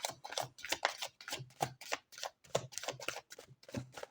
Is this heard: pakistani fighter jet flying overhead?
no